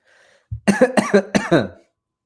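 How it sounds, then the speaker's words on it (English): A burst of several rough, voiced coughs in quick succession, loud and close, with no talking around them. "No, that cough was not a hint."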